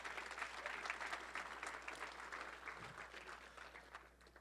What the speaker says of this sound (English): Give yourselves a round of applause for attending.